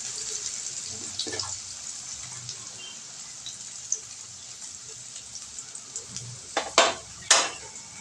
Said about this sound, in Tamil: வெங்காயத்தை கொஞ்சம் ஃப்ளேமை கூட்டி வச்சுட்டு வெங்காயத்தை நல்லா வதக்கிட்டே இருக்கணும்